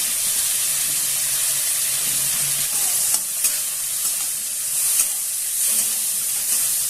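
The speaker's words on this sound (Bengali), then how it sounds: "চিংড়ি মাছ আমি বেশি ভাজবো না।" Shrimp seasoned with salt and turmeric fry in a pan with a bright, continuous hiss and sizzle. A few soft stirring knocks break through it, close-up, with no voices.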